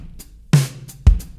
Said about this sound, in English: This is the sound of the acoustic kit,